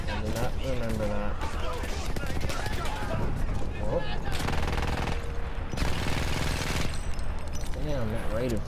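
Battlefield 1 gunfire, rapid and continuous, mixes with battle noise and explosions throughout, while a player's voice talks over the shooting.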